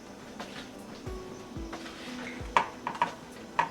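Spices for a lamb leg marinade being mixed together in a bowl, soft scattered clinks and taps of a spoon against the bowl, faint and close, with a few brighter knocks near the end.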